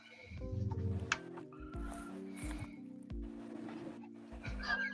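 A puppy growls back at a much larger senior dog, low rumbling growls repeating in several pulses close by, with squeaky whimpers and faint background noise between them.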